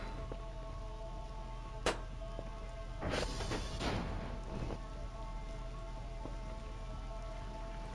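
Rain falls in the Voices of the Void video game, a faint steady patter with scattered drop ticks, a brief crackle and a soft swell of heavier spray midway, no talk.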